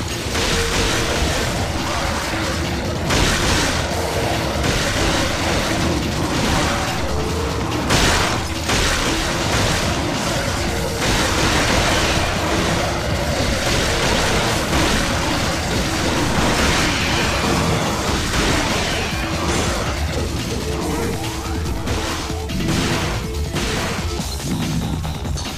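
Shotgun blasts from the video game Devil May Cry fire in a loud, dense barrage, one heavy burst after another, with crashing impacts and action noise running without a pause.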